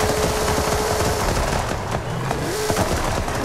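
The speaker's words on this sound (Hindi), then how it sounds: "एंटी लैग भी लगा हुआ है, पटाखा भी फोड़ेगी" A modified Jeep Wrangler with a swapped-in V10 engine and anti-lag in Forza Horizon 5 rumbles loudly, with rapid crackling backfire pops firing throughout over a steady engine drone.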